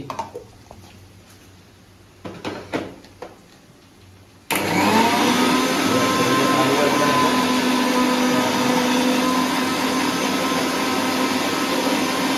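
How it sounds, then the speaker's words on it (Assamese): A kitchen mixer grinder grinds sesame seeds with a little water, roaring in a loud, steady whir that starts abruptly after a few faint knocks and runs on without pause. "আমি তিল লৈছোঁ মিক্সাৰ গ্ৰাইণ্ডাৰত তিল অলপ পানী দিব লাগিব"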